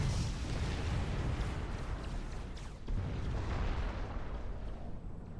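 Bombing-run explosions in the real-time strategy game Supreme Commander roar as a dense, continuous wall of booms and blasts, loud and unbroken for several seconds with brief surges.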